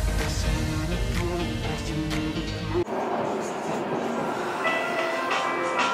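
A train in Malaysia rumbles and clatters steadily as it reaches its terminating station, with a sudden shift partway through to a lighter, hissing rail noise, loud and close throughout.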